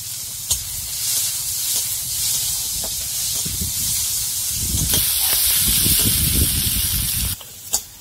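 Chopped onion and garlic drop into hot oil with dried red chillies, giving a steady, close hissing sizzle that swells louder midway and cuts off near the end, with a few clinks of utensils.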